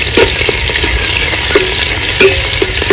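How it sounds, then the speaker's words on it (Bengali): Chopped onion frying in hot oil over cut fat and whole spices in a pan for mutton curry, giving a loud, dense, continuous sizzle up close, with soft stirring scrapes now and then and no talking. "পেঁয়াজটা একটু ভেজে নেবো ভালো করে।"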